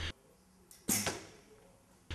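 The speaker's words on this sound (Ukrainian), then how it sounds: "Щоб стріли летіли точно в десятку" An archery arrow is loosed at a training range, a sharp snap and whoosh near the middle, with a fainter release thump before it and another sharp hit at the very end, otherwise quiet.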